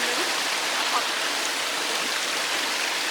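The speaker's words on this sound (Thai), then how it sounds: "เสียงอาจจะแทรกหน่อยนะครับเพราะเสียงน้ำมันแรงมากเลยครับ" Strong water rushing after rain during a fishing trip, a loud, continuous broadband roar like a fast stream, steady and close with no pauses.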